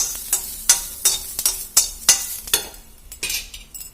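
Chillies, garlic and cumin fry in a pan for a brinjal and cucumber chutney, a spatula scraping and tapping in a quick, regular rhythm over a bright, crackling sizzle, with no talking.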